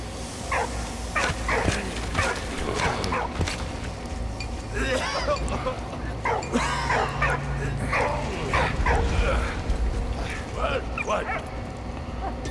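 A dog in the World War I video game Valiant Hearts barks and whimpers in short repeated yips against a busy game soundtrack, while a person talks over it now and then.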